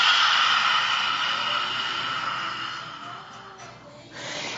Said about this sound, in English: using that lion's breath, making that sound as you breathe out